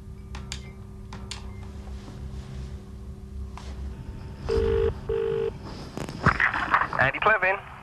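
An office telephone rings in two short bursts of electronic tone, followed by a handset being picked up and a voice answering over a steady room hum.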